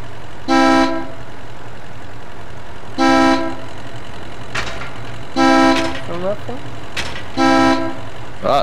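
A vehicle horn in the war game Foxhole honks four times, each blast about half a second long and spaced evenly and loud, with a brief squeaky sound in between and a low engine rumble under talk.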